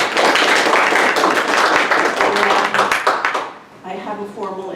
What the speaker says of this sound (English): So I hope you give him a round of applause.